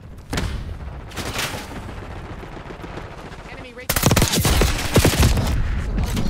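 Gunfire from Call of Duty Black Ops 6 in an online match: bursts of automatic fire and scattered shots, growing denser and louder in the second half, with game voices beneath.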